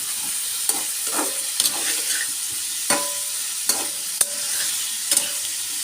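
A spatula scrapes and stirs shrimp and fruit frying in a pan, with a steady sizzle underneath. Regular, distinct stirring strokes come every half second or so, close and clear, with no talking.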